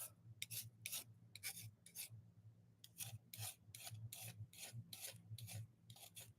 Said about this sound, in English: You just take it and you just scrape, and it gets that tape off